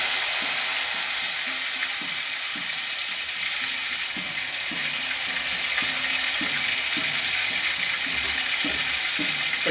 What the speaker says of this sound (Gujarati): અને હવે આપણે ડુંગળી ટમેટા ખમણેલા એ નાખી દેવું.